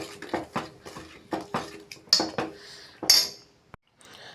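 A spoon stirs black rice pongal in a pot, making a rhythmic series of close scraping knocks and metallic clinks roughly every half second, then a brief pause before one last faint scrape.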